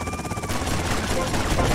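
Rapid gunfire in GTA: Vice City rattles dense and loud at an FBI car, a continuous stream of shots that barely lets up across the moment.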